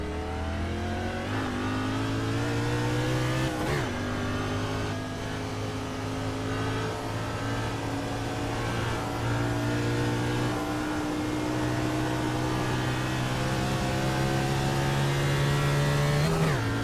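A stock car's engine in a NASCAR racing video game at Charlotte drones steadily and loudly throughout, shifting pitch as it revs, with a brief dip around the fourth second and a rise near the end, and no talk over it.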